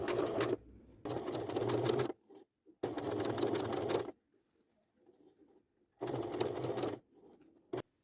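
A sewing machine stitches fabric and bias binding in close, loud runs of rapid mechanical chatter, several bursts of one to two seconds separated by near-silent pauses with faint handling noise.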